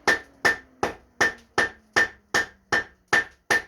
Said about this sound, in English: Nice light blows at temperature.